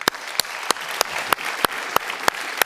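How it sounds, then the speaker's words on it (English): Rhythmic unison clapping from an audience, evenly spaced sharp claps about three per second over a background wash of applause. "So please join me in a round of applause."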